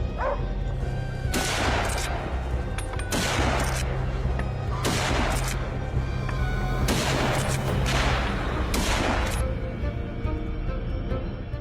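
Hunters fire guns at charging wild hogs on a farm, several loud clustered bursts of shots in rough sync, with dogs barking throughout amid steady outdoor noise.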